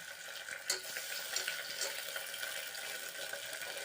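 Ginger garlic paste sautéing with onion and green chilli for a vegetable pulao: a steady bright sizzle with a few soft stirring scrapes near the start, no talking.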